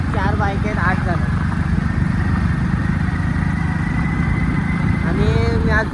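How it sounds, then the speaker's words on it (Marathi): A Hero Splendor motorcycle ridden on a Konkan road trip from Alibaug, its steady engine drone and road noise running continuously throughout, with voices talking over it. "आणि मी आज खूप वर्षांनी स्प्लेंडर गाडी चालवतो."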